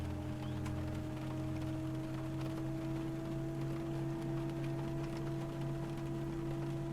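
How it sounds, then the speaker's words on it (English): Steady rain patters beneath a constant low engine hum and whine as an Airbus A320 starts its takeoff in the X-Plane 11 flight simulator, an even, unbroken wash of noise with no voices. "there's somebody taking off in the rain."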